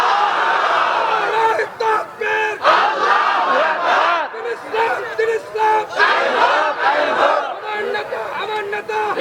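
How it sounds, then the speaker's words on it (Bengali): A crowd of married men at a Bengali waz mahfil shouts the takbir, loud massed chanting voices rising in repeated surging waves over several seconds. "বিবাহিতরা তাকবীর দেন, এটা দেখে কত জোর আপনাদের গলায় আছে"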